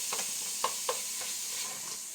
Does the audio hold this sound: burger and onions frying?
yes